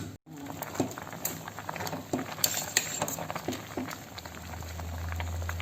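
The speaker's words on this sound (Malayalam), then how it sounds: "വെണ്ടക്കായും തക്കാളിയൊക്കെ ഇട്ട് തിളച്ച് വന്നിട്ടുണ്ട്" Sambar with okra and tomato boiling in a pot, a dense, bubbling simmer with scattered soft pops and an occasional light clink of a utensil against the vessel, heard close up and fairly quiet.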